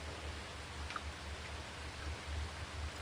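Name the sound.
rain falling, raindrops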